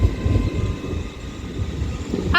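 A Class 800 train runs at Reading station on the Great Western Main Line, bound for London Paddington. A steady low rumble of rolling wagons carries on with a brief higher tone near the end.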